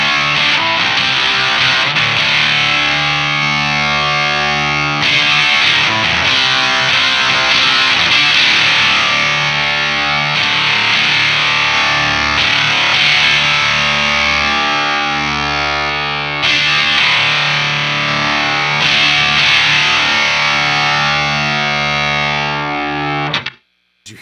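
Distorted octave-fuzz guitar chords through a Jam Pedals Octaurus LTD pedal, loud and sustained, strummed continuously for about twenty-three seconds with a few re-struck chords before cutting off abruptly.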